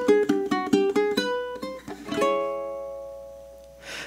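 A ukulele plays a spooky melody as a quick run of plucked notes, then a final strummed chord that rings out and slowly fades, played close and alone.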